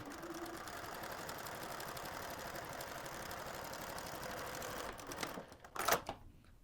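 Sewing machine stitching along a fabric seam edge to finish it, a steady continuous mechanical whir with a rapid needle rhythm running for most of the stretch, then breaking into a few louder clunks near the end.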